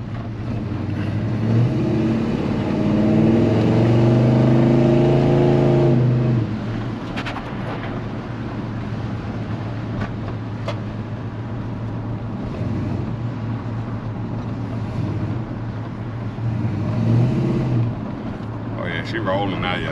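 A Chevy C-10 truck running without mufflers gives off a loud, low, droning exhaust rumble. It rises in a revving swell early on, settles into a steady idle-like growl, then swells again near the end, with wind noise on the microphone.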